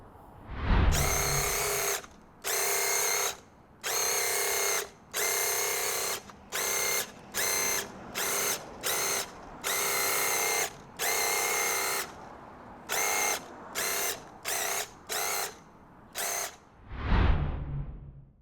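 Paint sprayer spraying wood stain onto a tiny house, hissing in repeated bursts of varying length, some long, some short and rapid, with a mechanical hum underneath and brief thumps at start and end.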